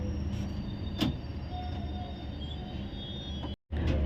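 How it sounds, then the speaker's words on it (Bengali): Train pulling out of Awantipora station in Kashmir on the Srinagar–Jammu line, a steady low rumble and rattle of rolling carriages with a brief clank, heard from inside and close. "আবান্তিপুরা থেকে ট্রেন এখন ছেড়ে চলল সঙ্গল তালের উদ্দেশ্যে"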